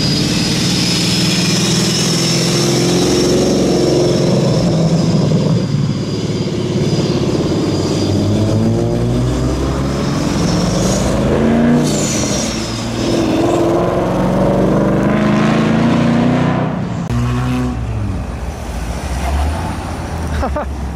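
Land Rover Freelander with a turbo engine pulling away from a car show, a steady loud engine drone with rising turbo whistle and passing traffic close by, with crowd noise around it.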